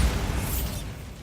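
A Bombarda spell explosion in the Hogwarts Legacy video game: a loud, close burst that quickly settles into a rumbling, gradually fading roar.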